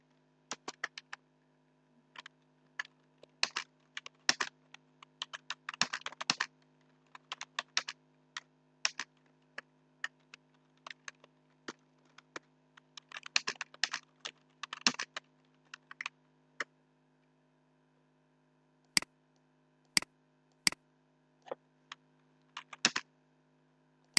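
Computer keyboard typing during a Fiverr design class, in quick bursts of clicking keystrokes with short pauses, close and clear over a faint steady hum, no talking.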